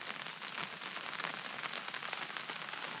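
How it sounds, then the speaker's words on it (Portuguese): Steady rain drums on a camping tent during a trekking trip along a railway route, with dense, even patter and occasional louder drops, close and continuous with no talking. "Aí voltou. A mesma chuva ainda, praticamente."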